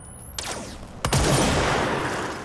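Gunfire in the video game Control: a sharp, loud shot crack strikes midway and is followed by a sustained roar of shooting and echoing noise, with fainter shot-like transients just before it.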